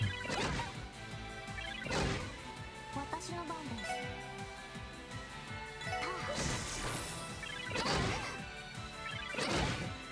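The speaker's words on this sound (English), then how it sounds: "Power Smash. Area attack, delay. Strikes opponent with great force" Heavy crashing impacts from the Power Smash attack in Trails from Zero land in spaced bursts, about five sharp thwacks spread over ten seconds, with game sounds and light voice activity between hits.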